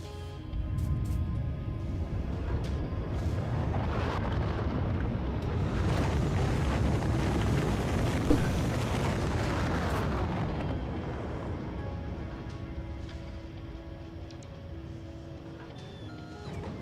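Rocket explosions in the video game Factorio, a deep rumbling roar that swells into a dense rolling blast before slowly fading, loud and sustained with low booming weight.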